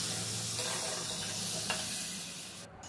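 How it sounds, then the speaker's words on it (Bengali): Turmeric and chillies fry in a pan while being stirred, a steady close hiss of sizzling oil with faint occasional scrapes of the spoon, running unbroken and slowly easing off. "আরও একবার নাড়াচাড়া করে নেব"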